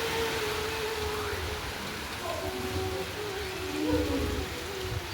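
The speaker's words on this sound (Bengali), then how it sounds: "দেখুন মুষলধারে বৃষ্টি এসছে। বৃষ্টি পড়ছে।" Heavy monsoon rain pours down in a continuous dense hiss, loud and steady throughout, with faint tones and murmurs underneath.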